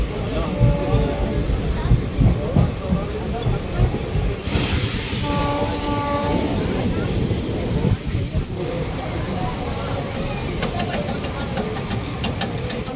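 A MEMU passenger train on the Sealdah–Lalgola line runs between Naihati and Kanchrapara, giving a steady close rumble of wheels and carriage noise with a brief horn-like tone midway, while voices chatter throughout.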